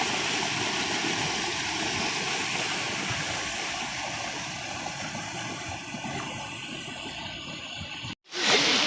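Floodwater from a dangerous stream swollen by heavy rain roars with a steady, loud, broadband rush that keeps on without a break, then cuts off abruptly near the end.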